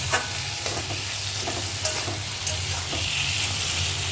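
Steady stirring and light frying sizzle from a pan of Katla fish fat and swim bladder cooked with Malabar spinach, close and continuous with a few scraping strokes and no talk.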